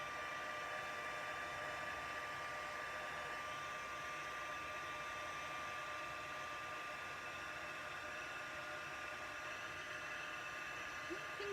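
A heat tool hums and blows continuously while heat-setting embossing on a slimline gate fold card. The airflow noise holds steady and fairly faint throughout.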